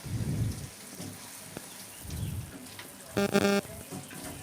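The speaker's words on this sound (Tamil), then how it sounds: "இதே மாதிரி நம்மளோட எல்லா பூரியும் போட்டு பொரிச்சு எடுத்துக்கலாம்" Poori deep-frying in hot oil, a soft bubbling sizzle that swells and fades in short waves, with a brief clatter near the end.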